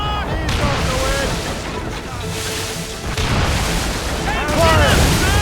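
Ship cannons fire in a naval battle in Assassin's Creed Rogue, heavy booms rolling under a constant rumble of combat noise, with shouted crew voices over the din.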